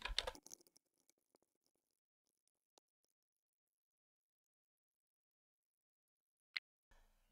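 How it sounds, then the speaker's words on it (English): Clicks of a computer keyboard as a short inventory file is typed, a dense burst of keystrokes at the start, then a few scattered isolated taps and a sharp click later, with long quiet gaps between. "while I type that out."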